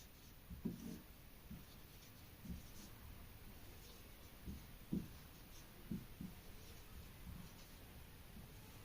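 Faint marker or chalk strokes on a board, a scattering of soft scratches and taps at irregular intervals over a low steady room hiss.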